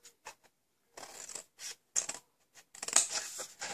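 Scissors snipping card for a fold flat card box, a run of short crisp cuts close by, some single snips and some longer slicing strokes, quiet with gaps of silence between.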